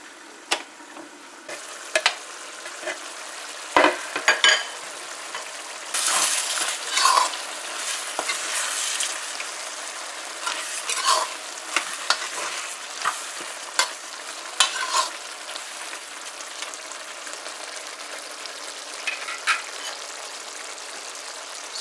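Squash and chicken curry cooks in a pot with a low frying sizzle under repeated clattering scrapes and knocks of a spoon or lid. The sounds are close and come in uneven bursts, with no voices.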